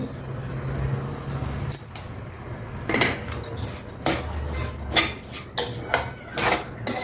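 Semolina and sugar, with cardamom powder, being stirred together in a hot pan for rava laddu: a spoon scrapes and clinks against the metal in repeated close strokes, with soft gritty rustling between them and no talk.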